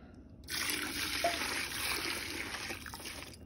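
Water trickles steadily through a strainer into a container while homemade liquid detergent is made from bar soap and powder, a soft continuous pour that starts abruptly and runs close by without talk.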